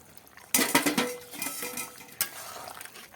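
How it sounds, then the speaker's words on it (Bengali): Fried pointed gourd fritters go into a simmering potato curry in a pan, with a sudden clatter and splash followed by a few utensil knocks and a soft liquid bubbling that continues quietly. "এখন আমি ভেজে রাখা বড়াগুলো দিয়ে দিচ্ছি"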